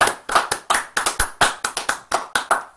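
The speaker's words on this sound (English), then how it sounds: "Everybody clap their hands." Sixteen or so sharp, close hand claps come in an uneven rhythm, like a small group clapping during an online talk, with no voices over them.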